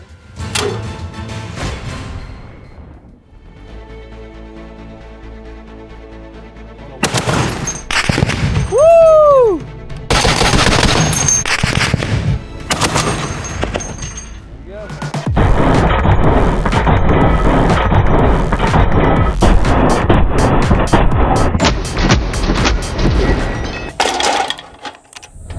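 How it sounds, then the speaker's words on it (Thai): A .50 caliber machine gun fired outdoors at a shooting range, with loud bursts of heavy rapid fire that build into long, dense strings of shots, preceded by quieter handling noises and a few isolated sharp cracks. "อันนี้คือปืนกลยิงรั่วเลยครับ"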